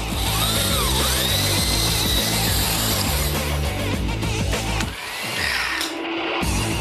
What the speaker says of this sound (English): Eric drills holes into the PVC caps so he can bolt them to the 1x3s